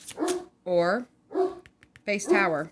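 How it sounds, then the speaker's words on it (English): A pet dog barks in a quick series of sharp yaps close to the microphone, interleaved with a person talking indoors. "Sorry, that's my dog."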